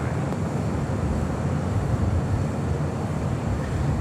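Virgin Atlantic Flight 8 departs LAX for London with a broad, steady jet roar, a sustained rumbling wash of engine noise at moderate distance and no talking.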